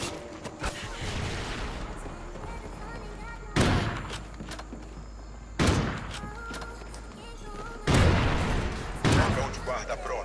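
Gunfire in a shooter video game against bots: several loud sharp bursts of shots spaced a couple of seconds apart, over continuous game noise with someone talking excitedly throughout.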